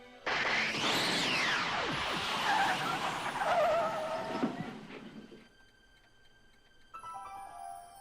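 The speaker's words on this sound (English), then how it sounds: "It's the DeLorean." The DeLorean time machine arrives in the Back to the Future video game with a loud rushing, crackling burst and swooping whines that fade to a low hum, followed by faint electronic tones.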